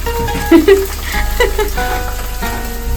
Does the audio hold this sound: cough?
no